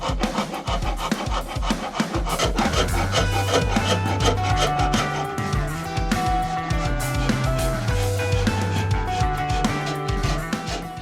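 Coarse rasp filing the wood of a traditional handmade bow, a steady run of close, loud rhythmic scraping strokes with no pauses.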